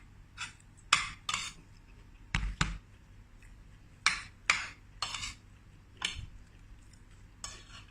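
Sharp metallic scrapes and clanks of a utensil against a wok while stir-frying chicken, in irregular bursts with quiet gaps between.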